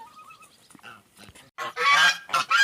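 Geese honk loudly in a short burst near the end, after quieter bird calls and murmurs at the start.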